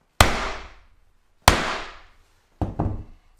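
Hammer tapping a cable lug seated in a crimping tool for an off-grid battery bank: three sharp, close metallic knocks spaced about a second apart, each ringing briefly, the last a quick double hit.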